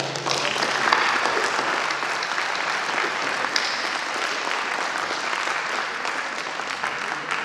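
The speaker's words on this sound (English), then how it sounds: "They deserve a good round of applause." A conference audience breaks into sustained applause, an even crackle of many hands clapping that holds steady for the full span without speech.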